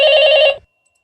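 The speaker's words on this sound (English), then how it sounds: "The phone rings." A telephone bell rings once in a loud, bright burst lasting about half a second, then cuts off to silence.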